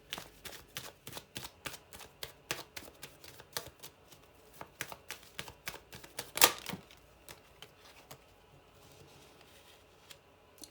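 Tarot cards being shuffled and drawn during a reading, a steady run of crisp, close clicks and flicks with one sharper snap partway through, quiet and with no voice.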